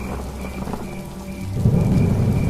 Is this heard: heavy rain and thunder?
yes